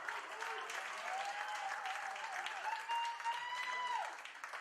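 A comedy show audience bursts into steady, dense applause for several seconds, loud and continuous, with a faint sustained tone running underneath.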